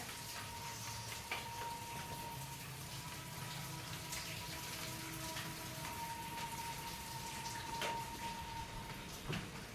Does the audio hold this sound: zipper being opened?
no